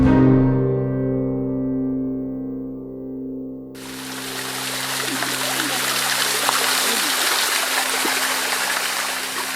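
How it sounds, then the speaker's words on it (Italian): Steady rush of flowing water from streams, rivulets and waterfalls in a large park beyond medieval walls, broad and continuous, rising in after a fading musical chord. "si sente continuo in sottofondo lo scorrere dell'acqua, tra rivoli, ruscelli e cascate anche di dimensioni notevoli"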